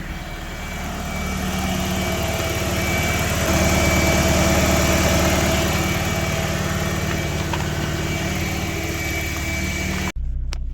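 A BMW E46 car engine idles in a steady, even drone at close range, holding constant for about ten seconds before cutting off abruptly near the end.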